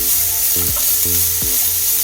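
Chopped broccoli sizzling and frying in a hot pan, a steady loud crackle with periodic stirring scrapes, no voices.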